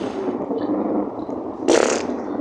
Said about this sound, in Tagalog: May umutot.